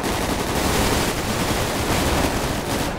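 Dense, continuous gunfire in a GTA 5 roleplay shootout, a loud wall of overlapping rapid shots and noise with no clear gaps between them.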